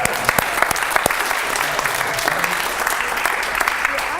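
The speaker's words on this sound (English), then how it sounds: "Give her a clap." A live audience breaks into steady applause during a stage hypnosis-style show, many hands clapping densely and fairly close, with a few sharper individual claps and faint voices underneath.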